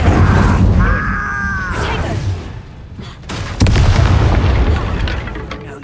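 Incendio fire spell blast in Hogwarts Legacy, with loud booming, roaring bursts of flame and impact thuds running throughout, a sharp crack near the middle, and some vocal sounds mixed in.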